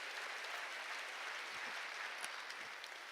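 A church congregation applauds during a sermon, steady dense clapping heard faint and distant throughout.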